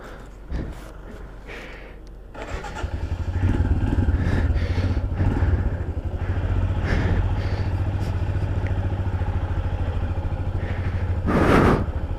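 A Royal Enfield Himalayan 411 motorcycle leaving Kaza in the Spiti Valley during heavy snowfall, its steady single-cylinder thrum running close and continuous with a brief sharp rush of wind or noise near the end.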